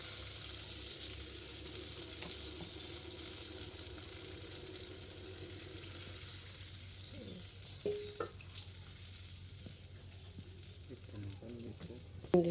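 Water hits a hot pan while dhokla is being made, giving a faint, steady sizzle under a soft background hum, with brief faint voices and clatter near the end.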